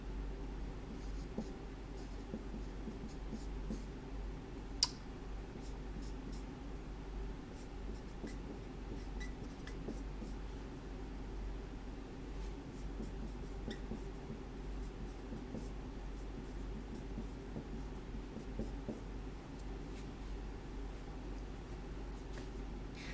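Pen or pencil writing out math ordered pairs, a faint, steady scratching of strokes over constant low hum and background noise, with one brief sharp tap.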